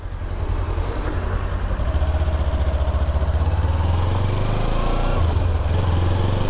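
Kawasaki Ninja 300 motorcycle riding on local roads in Ontario, a steady close engine drone with a low rumble that holds throughout and shifts slightly near the end, with wind noise and no talking.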